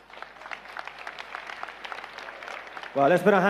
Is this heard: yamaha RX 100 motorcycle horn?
no